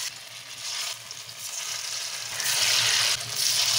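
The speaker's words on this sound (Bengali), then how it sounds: "সাদা তেল আমি গরম করতে দিয়ে দিয়েছি। এবার আস্তে আস্তে আমি এই ধোকাগুলোকে ছেড়ে দেবো।" Lentil cakes (dhoka) slide into hot white oil and fry with a steady, dense sizzle that swells louder partway through. No one speaks over the continuous crackle.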